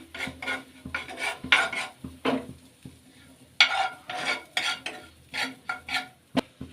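Mustard seeds and cumin fry in melted butter, crackling and spitting in uneven bursts, with a spoon scraping the pan now and then, close and fairly soft, without talk.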